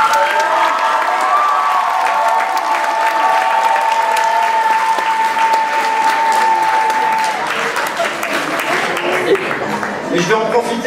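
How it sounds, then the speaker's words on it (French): Sustained, loud applause and cheering from an audience of students at a school maths conference closing ceremony, with a few shouts and a voice ringing briefly over the clapping. "je crois qu'on peut vous applaudir bien fort"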